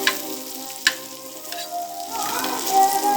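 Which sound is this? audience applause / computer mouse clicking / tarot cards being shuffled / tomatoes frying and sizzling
tomatoes frying and sizzling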